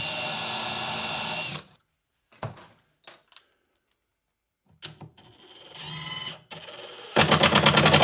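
Power drill driving screws into a wooden rolling cart for a spindle sander, heard as a steady whine, then a few short bursts with clicks and handling noise between, ending in a louder buzzing run.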